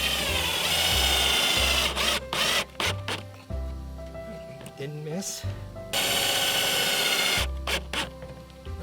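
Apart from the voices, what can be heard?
drilling holes in wood for Christmas tree stand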